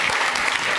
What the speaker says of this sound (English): Another round of applause, please, for David.